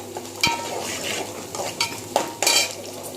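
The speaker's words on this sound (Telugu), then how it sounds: "ఇగో స్టవ్ మీద గిన్నె పెట్టేసి నూనె పోసి తాలింపు గింజలు వేసి ఉల్లిపాయ కట్ చేసి వేసేసి కరివేపాకు వేసండి" Onions and curry leaves sizzle in hot oil in a pot on a stove, with a steady fry broken by sharp metallic clinks and scrapes of a spoon stirring against the pot.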